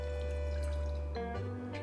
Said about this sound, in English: Place a pot on the stove and pour in 110 grams of soy milk